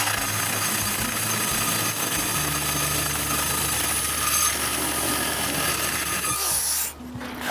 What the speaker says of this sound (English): now I'm going to cut the hole for the flue to go through the roof